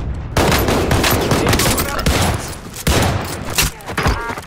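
Rapid bursts of MP5 submachine gun fire in a shooter video game, loud and dense, stuttering in repeated volleys with brief gaps across the whole stretch.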